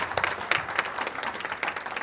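An audience at a literacy workshop panel applauds, a dense, steady round of clapping from many hands throughout, with no talk over it.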